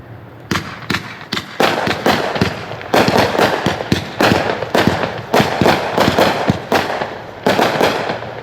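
Total Authority, a 45-shot firework cake, fires a rapid string of loud, close booming bursts in quick clusters with brief gaps, crackling tails running between shots, and no voices.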